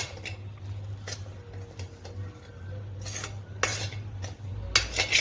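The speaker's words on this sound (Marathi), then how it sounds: "गॅस बंद ठेवलाय आणि मिक्स करते सगळं" Spoon stirring spices, turmeric, peanut powder and gram flour in a kadhai with the gas off, close scraping and clinking of metal against the pan in irregular strokes over a low background hum.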